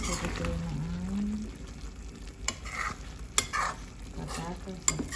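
Chicken afritada with green peas, potatoes and carrots simmering in a pot while a spoon stirs it, giving soft bubbling and scraping with a few sharp clinks, close and moderately quiet.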